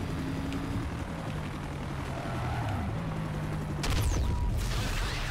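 A police helicopter in Need For Speed: Most Wanted (2005) drones overhead amid a car chase, its rotor hum mixed with engine and siren-like tones, followed near the end by a sharp crash or boom.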